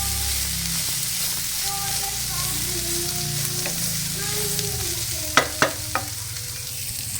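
Chicken sausages frying in a pan, a loud steady sizzle with a low rumble early on and three sharp metallic clinks of a utensil toward the end.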